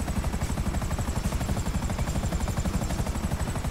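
Helicopter flying in GTA Online, a steady loud low rotor chop with fast regular thumping pulses and a continuous whine, sustained throughout with no talk.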